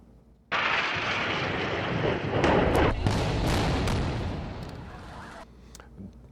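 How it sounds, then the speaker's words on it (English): Airstrike explosions in Gaza erupt as a loud, sustained rumbling blast that starts abruptly and rolls on for several seconds, with further booming bursts and a fading tail. "people in Gaza waking up to another round of punishing airstrikes from Israel."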